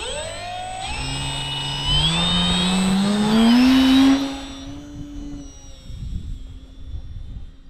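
A 3D-printed RC scale model of a PZL.55 fighter flies at half throttle, its small electric motor giving a steady whine that rises in pitch and swells as it passes close, then fades away into wind noise.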